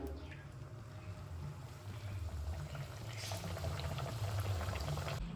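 Luchi, a doi methi puri, deep-fry in hot oil with a dense, steady bubbling hiss that grows a little louder, close up, with no speech.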